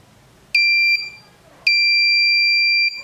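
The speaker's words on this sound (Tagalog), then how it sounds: "Napipick up niya yung sound ng buzzer." Two loud electronic buzzer tones sound close by, picked up by an electret microphone preamplifier: a short one and then a longer sustained one, each a piercing steady pitch with silence between.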